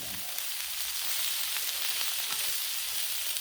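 Onions and peppers sizzling steadily on a Blackstone griddle, a dense, even frying hiss that stays close and constant with a few faint scrapes and no voices.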